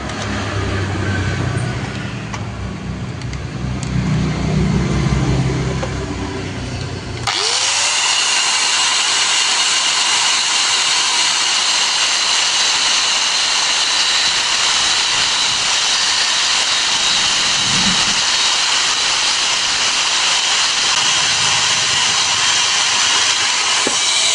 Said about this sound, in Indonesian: Kita potong pakai gerinda aja